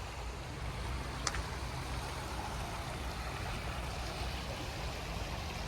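A Pennsylvania creek flows in a steady, broadband rush of water, even and continuous throughout with no voices, and a single faint click stands out briefly near the start.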